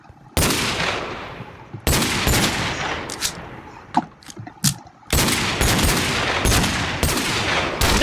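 Bursts of rapid machine gun fire in a modded Minecraft shootout minigame, loud and close, several sustained volleys broken by short gaps with a few scattered single shots, no talking.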